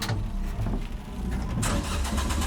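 A race car's engine cranks repeatedly without catching during a stormy track day at Magny-Cours, the starter churning in a rough, steady low rumble close by.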